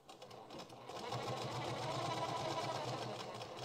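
A sewing machine runs steadily, stitching a finishing seam along the piping on a blouse or dress. The motor whirs continuously, starting a little softer and then holding at a constant level, with no voices.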